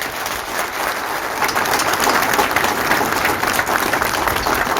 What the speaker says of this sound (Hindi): आप सबके लिए बहुत जोर से तालियां